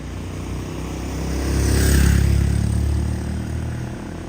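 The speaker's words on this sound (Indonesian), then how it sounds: "Wah, sudah bunyi motor dari sana guys." A motorcycle engine revs from a distance, swelling to a peak and fading again over steady low rumble, heard on a road during a procession toward Makale.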